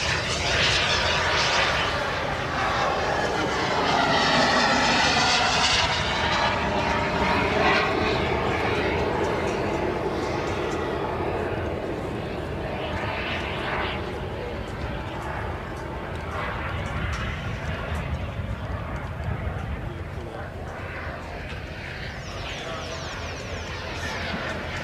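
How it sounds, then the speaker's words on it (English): Cold War jets, a Panther, MiGs, a Sabre and a Hunter, roar past at an airshow at Elvington, a loud sustained jet rumble that swells early then slowly fades, with a commentator talking over it throughout. "Cold War jets."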